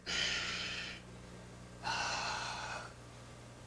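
Two forceful breaths, each lasting about a second, rush out close to the microphone during a Shaolin Northern Tiger kung fu punching drill, separated by a short quiet pause with no talking.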